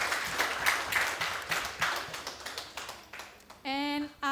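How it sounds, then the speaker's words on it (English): An audience at a seminar claps together for a few seconds, the applause thinning out before a short voice sounds at the end. "Maybe we can give applause once again for Prof. Neil."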